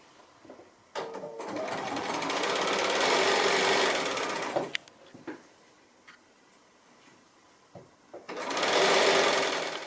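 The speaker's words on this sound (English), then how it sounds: "I'm going to go ahead and keep sewing my borders on" A sewing machine stitches quilt borders in two steady, close bursts of rapid whirring, with a quiet pause of small clicks and handling between them.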